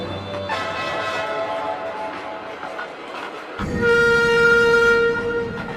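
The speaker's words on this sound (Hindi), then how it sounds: "उस टाइम ट्रेन घने जंगल से होकर गुजर रही थी।" A train running through a dense forest, its loud rumbling rolling stock joined partway through by a long, sustained horn blast, close and heavy throughout.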